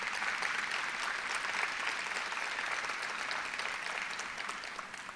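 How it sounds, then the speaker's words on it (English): A room full of people claps steadily for school district employees at a State of Education event, an even, fairly distant wash of applause lasting the whole span with no talk over it. "If you could clap for them, I would really appreciate it."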